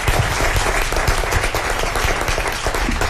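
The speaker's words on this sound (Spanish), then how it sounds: "Van a aplaudir, por favor, porque se lo han ganado." Audience applause at a round-table panel on transmedia for children in Madrid: dense, sustained clapping from many hands that fills the room at an even level throughout.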